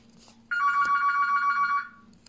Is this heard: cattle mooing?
no